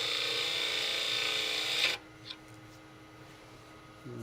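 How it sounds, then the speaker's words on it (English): A skew used as a small negative rake scraper on wood turning on a lathe, giving a steady loud rasping scrape that stops abruptly halfway, leaving a quiet hum with a faint tap. "Now we'll go back to our little skew. Which is a little negative rake scraper."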